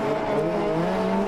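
Hot rod race cars at the 2012 Hot Rod World Final driving on shale, a loud, sustained engine drone with shifting pitch and a tire-squeal edge, close and continuous.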